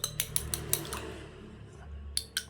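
Ingredients for a homemade plant spray are stirred in a container, giving a series of sharp metallic clinks and taps in an uneven rhythm, close and moderately loud, with no talk.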